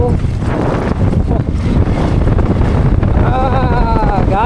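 Strong wind at Khardung La pass in Ladakh roars and buffets the microphone continuously, with a voice calling out faintly near the end.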